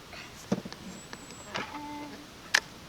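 Spent cartridge being ejected from a Savage Rascal .22 LR bolt-action rifle, a few short close metallic clicks and slides from the bolt over a low outdoor background.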